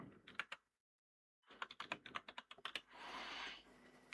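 Keys clatter on a computer keyboard in quick, quiet bursts of typing close by, with a one-second pause after the first few strokes.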